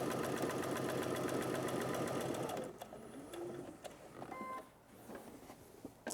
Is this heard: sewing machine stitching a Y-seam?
yes